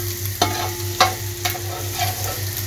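Chicken and garlic paste stir-fried for Chinese rice sizzle steadily in a pan, with several sharp scrapes and knocks of a spatula at irregular intervals over a low hum.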